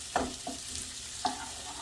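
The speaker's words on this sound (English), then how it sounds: "Peppers in. Give that a stir." Poblano peppers sizzle softly in a pan, with a few quick scraping stirs that knock sharply against the pan, close but fairly quiet and without speech.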